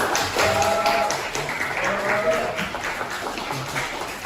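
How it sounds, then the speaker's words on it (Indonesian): Applause from a classroom of students for the first group after its presentation, a dense, steady patter of clapping lasting the whole stretch with faint background voices mixed in. "kita beri tepuk tangan dulu untuk"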